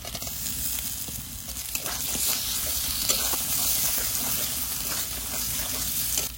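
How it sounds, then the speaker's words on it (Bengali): Masala spice paste of ground green and dry chillies fries and is stirred in a pan, giving a steady, close sizzle with soft scraping stir sounds throughout, no voices. "মশলাটা সুন্দর করে কষিয়ে নিয়েছি"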